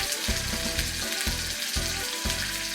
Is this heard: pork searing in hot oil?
yes